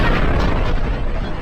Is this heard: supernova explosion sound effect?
yes